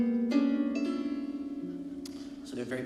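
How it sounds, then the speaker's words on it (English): Sympathetic strings of a nyckelharpa ring with sustained, shimmering tones under the bowed notes, close and clear, shifting pitch partway through with a few plucked accents near the end. "And then it has 12 extra strings called sympathetic strings."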